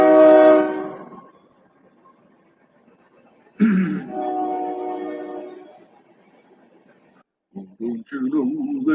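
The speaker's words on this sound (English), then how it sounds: "Train." A passing train sounds its horn in long, loud blasts, the first trailing off and a second sustained one following after a pause, with a voice speaking briefly near the end.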